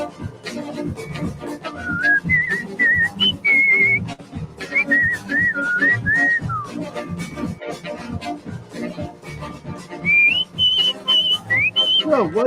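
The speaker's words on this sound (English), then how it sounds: "The boy can definitely whistle." A boy whistles a bright, wavering melody outdoors near a street in New Orleans, in bursts with pauses between phrases, against a busy background with other sounds underneath.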